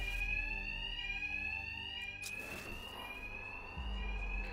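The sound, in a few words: fire alarm ringing in Batman: Arkham Knight video game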